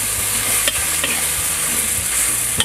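Chicken with holy basil stir-fried in a hot pan for Thai kaphrao, a loud constant sizzle with busy spatula scrapes and taps throughout.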